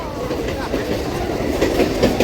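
A Bangaon local train rolling along the track, with a steady close rumble and rhythmic clickety-clack of wheels over rail joints, loud and continuous inside the moving carriage.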